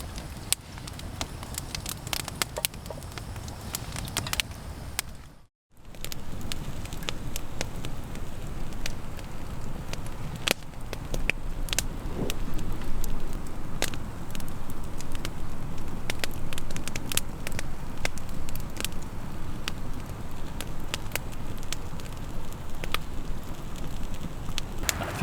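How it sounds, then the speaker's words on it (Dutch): A campfire built with the long fire method, also called the Swedish bonfire, crackles steadily outdoors with a broad continuous rustle and scattered sharp pops. A brief dropout near the start interrupts it, and the fire then continues unbroken and fairly close. "Het vuur staat inmiddels goed aan."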